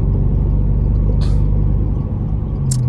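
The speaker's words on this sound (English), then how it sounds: "We are in the turbocharged Mustang" Turbocharged Ford Mustang cruising on a highway, heard from inside as a steady, loud low engine and road rumble, with a couple of faint brief hisses over the drone and no talking.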